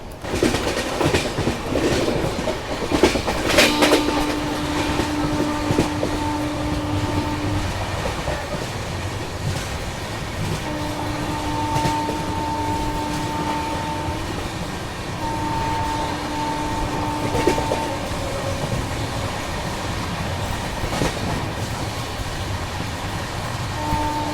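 An Indore Daund Express rolls on at night after crossing the Mahi river toward Dahod, a steady rumble with rhythmic clickety-clack from the wheels and a few long horn blasts, loud and close from inside the train.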